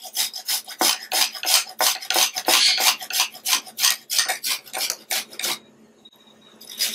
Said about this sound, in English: I'm going to grate my ginger